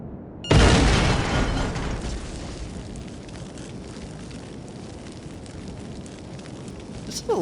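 Explosive charges detonating in the video game Jedi Knight: one sudden loud blast erupts, then a long rumbling, crackling roar slowly fades, with a smaller burst near the end.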